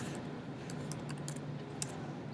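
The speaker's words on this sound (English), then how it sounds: "So I will be typing," Soft keyboard typing at a computer, a scatter of light key clicks spread unevenly across the moment over a low steady hum, fairly faint and close, with no voices.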